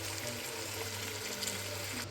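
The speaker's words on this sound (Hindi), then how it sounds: "तो मेरे राइस थे 1 गिलास तो मैंने 2 गिलास में पानी शामिल कर दिया।" Water is poured into rice for pulao, giving a faint, steady splashing trickle that runs for a couple of seconds.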